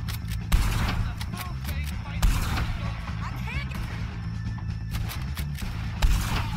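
Dense bursts of gunfire in the Red Dead Redemption 2 video game, with repeated loud shots cracking over a busy, rumbling battle bed and louder blasts near the start, middle and end.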